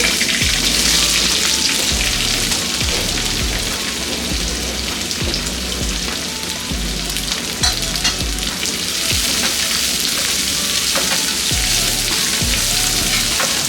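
Onions and curry leaves frying in oil for masala poha, a loud, dense, rain-like sizzle running steadily throughout, with rhythmic low stirring knocks.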